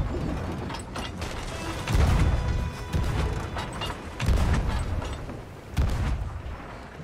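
Heavy ship cannons fire in a sailing video game, several loud booming blasts spaced about a second or two apart over a rumbling, clattering game backdrop.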